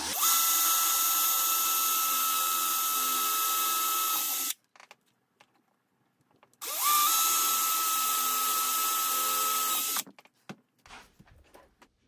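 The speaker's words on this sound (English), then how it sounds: "So we're going to line it up, maximum speed on your drill," A power drill whines at maximum speed drilling a handle hole through cabinet wood in two long bursts, each several seconds, separated by a short quiet pause and ending with faint clatter.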